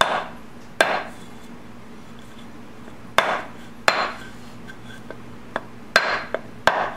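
A hammer seats the final drive ball bearing on a 2002 BMW K1200RS. Sharp metallic blows land irregularly, a few loud ringing hits with softer taps between, clear and close in a quiet workshop.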